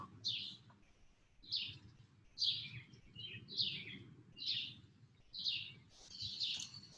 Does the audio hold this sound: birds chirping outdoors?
yes